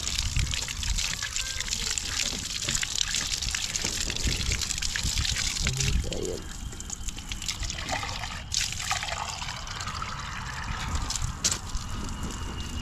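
Water trickles and gushes steadily at a villa construction site, a continuous outdoor flow with faint voices and ambient noise mixed in.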